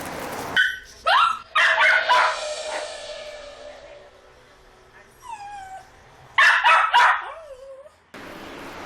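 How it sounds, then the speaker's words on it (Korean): A dog left alone in a shop barks toward the door after its owner leaves, with sharp close barks and rising whimpering yelps between pauses, loud and near. "어머니가 떠나자 문 쪽을 바라보며 짖기 시작하는 녀석."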